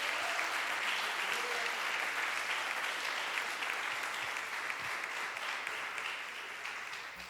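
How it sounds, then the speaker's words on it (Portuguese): A church congregation gives sustained applause during a worship service: a dense, even wash of clapping throughout that is soft and somewhat distant, with a faint voice beneath. "Dê uma salva de palmas para Jesus"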